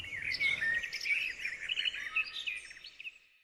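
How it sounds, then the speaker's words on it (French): Birds chirping on a winter day, a cluster of bright, quick tweets and trills close by, lively at first and thinning toward the end, with no other sounds. "Même les oiseaux gazouillants semblent impatients."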